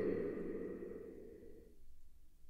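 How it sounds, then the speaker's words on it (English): A soft reverberant tail lingers and smoothly decays into near silence over about two seconds, faint and diffuse. "One thing I want you to hear is how the tail of the reverb decays."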